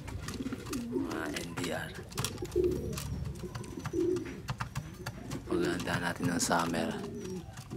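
Young racing pigeons coo in a loft, with throaty, rolling calls repeating close by while someone talks over them.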